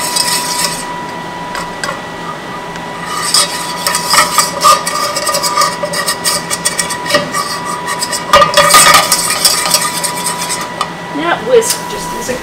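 Flour being whisked into hot fat in a pan for a green chili chicken burrito sauce, metal scraping and clinking in irregular bursts with a sharper flurry near the end, close and fairly loud.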